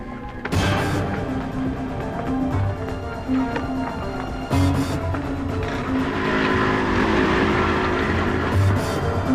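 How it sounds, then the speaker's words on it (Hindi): A motorcycle roars away at speed, its loud engine note rising and surging over several seconds with a few sharp clatters, in a dramatic crime-drama scene without speech. "मोटरसाइकिल, वो भाग रहा है।"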